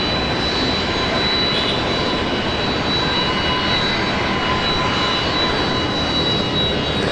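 A Virgin Australia Velocity flight landing at Brisbane Airport, its engines giving a loud, steady jet roar that carries unbroken for about seven seconds, with no voices.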